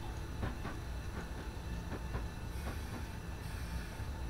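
A train passing in the video game Train Simulator 2018 on the Chengdu to Suining route, a continuous rolling rumble with rhythmic clickety-clack of wheels over rail joints, steady and fairly loud throughout.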